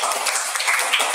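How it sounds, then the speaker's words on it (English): Children in a classroom clap together in a brief burst of dense, fairly loud applause. "clap for Janu."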